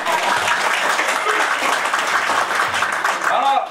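An audience at a business presentation and seminar applauds, a steady, even wash of many hands clapping that holds for several seconds before easing slightly, with a few voices faintly mixed in.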